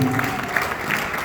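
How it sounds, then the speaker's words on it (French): Steady applause from a crowd at a book signing event fills the whole stretch, dense and continuous, with faint voices mixed in. "aidez-moi s'il vous plaît avec vos applaudissements"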